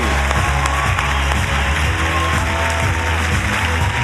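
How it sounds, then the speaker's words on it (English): An audience gives a welcome for Professor Stephen Hawking with sustained, dense applause and clapping that fills the whole stretch at steady loudness. "He enjoys a round of applause, particularly if it's directed at him"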